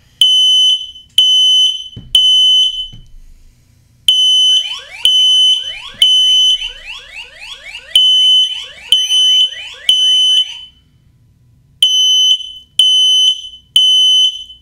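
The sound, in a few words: X-Sense XS01-WX smoke detector alarm sounding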